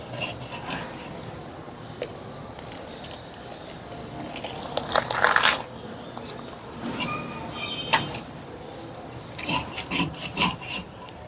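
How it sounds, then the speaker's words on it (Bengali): Chicken breast being cut with a knife on a wooden board for achari dal, heard as close, uneven rasping strokes and scrapes with a few louder bursts near the middle and end. "ডালগুলো ভিজিয়ে রাখার পরে এবার মুরগিটাকে আমি কেটে নেব।"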